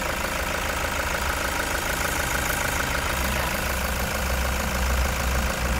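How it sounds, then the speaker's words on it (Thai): A Toyota diesel engine idles steadily close by, a continuous even rumble with a faint knocking texture that holds without a break. "ตอนนี้สตาร์ทเครื่องยนต์อยู่นะคะเครื่องดีมาก"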